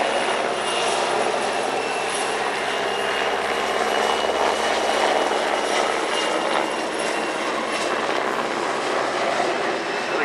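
Czech Air Force helicopters fly a display at the RIAT 2025 airshow, producing a loud, continuous rotor and turbine roar that holds steady throughout with a faint rhythmic blade chop.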